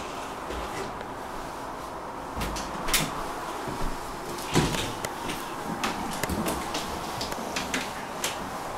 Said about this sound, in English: doors are working well.